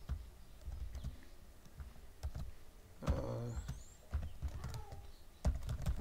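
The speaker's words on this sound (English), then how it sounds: "Let me type print," Someone types on a computer keyboard at a desk, with soft, scattered key clicks in short bursts, fairly faint and close, with no talking.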